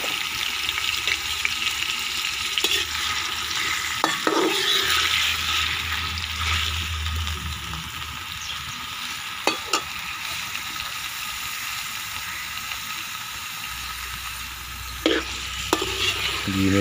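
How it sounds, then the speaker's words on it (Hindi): Tomatoes fry in hot ghee for spicy scrambled eggs, giving a steady, close sizzle that runs throughout, broken by a few sharp clinks and stirring scrapes from the pan. "सबसे पहले घी में टमाटर डाल देंगे।"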